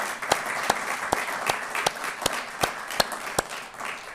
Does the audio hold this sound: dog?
no